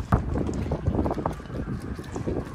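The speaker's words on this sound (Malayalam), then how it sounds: "ആ കാറ്റ് പിടിക്കുന്ന ശബ്ദം കണ്ടോ കപ്പലിൽ, കപ്പലിലല്ല ബോട്ടിൽ" Wind blowing around a floating pod moored on water in Kilrush, Ireland, a close, rumbling gusty rush with microphone buffeting and faint creaks, no talk.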